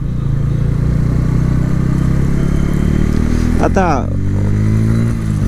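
Steady engine drone of a Bajaj Pulsar N160 Dual ABS motorcycle cruising in third gear, close and loud throughout, with a brief rising whine near the end and a voice speaking over it.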